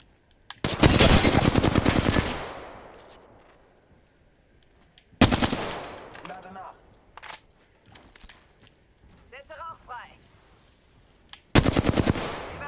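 Automatic gunfire in the battle royale game Apex Legends: three loud, rapid bursts, one long and two short, separated by quieter in-game movement and clatter, with no talking.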